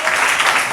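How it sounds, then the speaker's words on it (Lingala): A church congregation applauds in acclamation of the Lord during a Sunday service, a brief burst of dense, continuous clapping at full strength throughout. "Acclamons encore le Seigneur."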